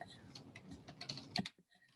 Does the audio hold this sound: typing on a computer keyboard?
yes